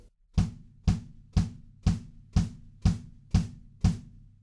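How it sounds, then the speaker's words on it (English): A lone kick drum thumps steadily on every beat, four on the floor, eight even, punchy hits with nothing else playing. "So when the drums first come in, it's just kick drums, 4 on the floor."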